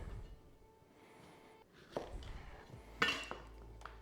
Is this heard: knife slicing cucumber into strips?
yes